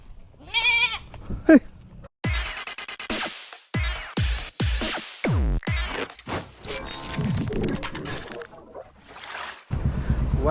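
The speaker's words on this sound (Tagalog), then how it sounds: "May kambing na tayo" Goats bleat several times up close, loud repeated cries mixed with bursts of wind noise and brief handling sounds, with a little voice activity in between.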